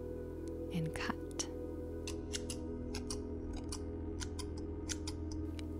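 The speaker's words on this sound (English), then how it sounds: "We are going to energetically cut this cord with scissors." Scissors snip through a cord, giving a quick burst of close, crisp cuts followed by several sharper, evenly spaced snips over a steady low hum in a quiet room.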